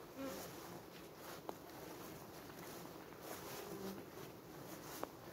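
A natural honeybee swarm buzzes in a dense, continuous hum outdoors at a beekeeper's hive, fairly faint and steady, with a couple of sharp clicks and a few soft voices in the background.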